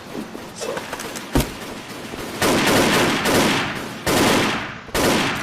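Wolfteam gunfire is heard as sustained automatic bursts, loud and close, with a sharp single shot early on and dense fire returning in waves through the second half.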